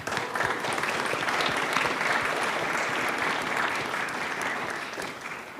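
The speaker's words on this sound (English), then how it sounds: "Let's give everyone a round of applause." Warm, sustained applause from a live audience at an art and psychedelics talk event rolls on steadily for several seconds before easing slightly at the end.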